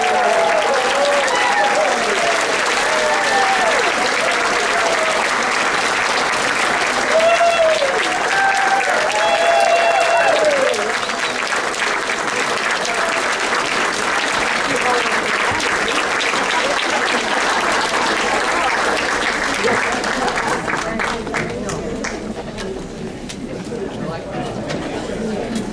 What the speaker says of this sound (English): He wants the standing ovation.